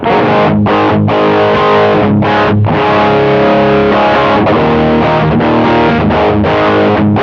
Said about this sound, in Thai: เดี๋ยวลองฟังเสียงแตกครับ